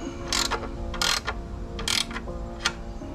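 A ratchet tightens the bolts on a Mugen ignition coil cover, giving several short, loud bursts of rapid clicking separated by brief pauses, close up with no talk.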